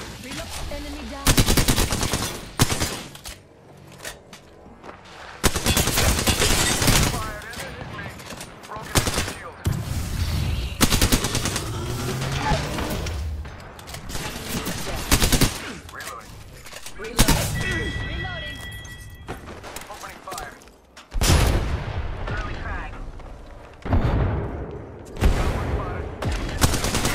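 Dense gunfire from an Apex Legends firefight: rapid automatic bursts and single shots come in loud, repeated volleys with short pauses, broken up by game callout voices.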